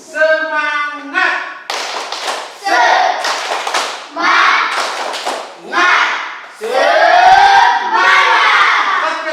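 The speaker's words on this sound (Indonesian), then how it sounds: "Pak Guru minta kita tepuk semangat." A classroom of students stands and performs the tepuk semangat spirit clap, bursts of loud rhythmic clapping in several short phrases separated by brief pauses, with children's voices chanting between and over the claps.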